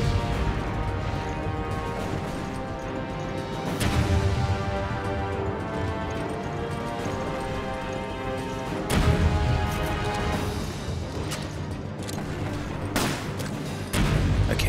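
Heavy cannon blasts in Resident Evil 5 boom out at intervals, each sharp crash standing out over a constant rumbling battle din.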